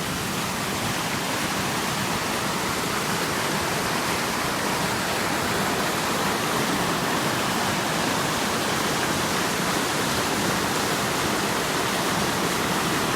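A loud, constant roar of rushing floodwater fills the clip without pause, broadband and dense, with no voices.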